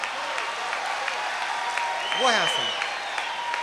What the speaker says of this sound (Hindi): जो पीछे खड़े हुए पीछे ताली बजा रहे हैं